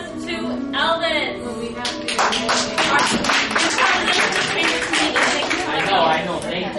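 Audience at a cosplay contest applauding a contestant, with sharp, dense clapping and taps close by, mixed with chatter and voices talking over it throughout.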